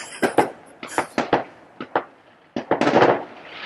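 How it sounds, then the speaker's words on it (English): Neighbours' backyard fireworks in Canada crack and pop in quick irregular bursts, several sharp close reports followed by a denser crackling volley, loud and with no talking over them. "it's the show-off battle between two neighbors and their fireworks"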